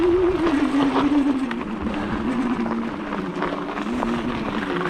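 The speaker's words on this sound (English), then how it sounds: "You can hear that motor going." Electric bicycle motor whining while climbing a steep off-road rail trail hill, a steady mid-pitched hum that wavers as the load changes, heard close over wind and rough riding noise.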